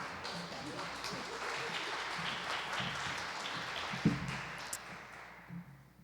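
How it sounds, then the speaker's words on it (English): An audience applauding the next speaker at a fall gathering in the Flint Hills, a broad wash of clapping heard from a distance that fades toward the end, with a little background chatter. "Let's give her a round of applause."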